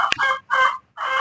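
A hen at home clucks in three close, loud bursts separated by brief pauses, with no voices.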